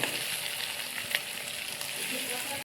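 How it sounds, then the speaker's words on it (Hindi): Chopped onions fry in a hot pan for a chaap curry, giving a steady, dense sizzle that continues without pause. "सो प्याज को अब हम करेंगे फ्राई।"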